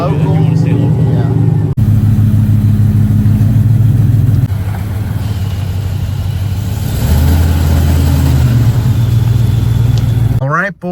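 A supercharged Ford Mustang engine drones steadily while driving, heard from inside the car with shifting pitch as speed changes, under people talking.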